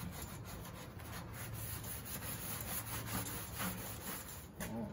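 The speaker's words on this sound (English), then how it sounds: "So just keep wiping with acetone until your panel feels smoother than clean." A cloth soaked in acetone wipes a 1969 Mustang fender panel during rust repair, giving a soft, continuous rubbing swish that is quiet and close, with no talking.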